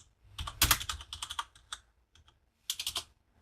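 Fast bursts of close, crisp computer keyboard typing, with clusters of keystrokes, a short pause, then another quick run of keys, alone in a quiet room.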